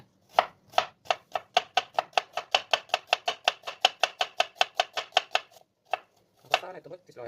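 A knife slices an onion on a cutting board in a quick, even run of about twenty crisp chops. It slows near the end, with a final few strokes after a short pause.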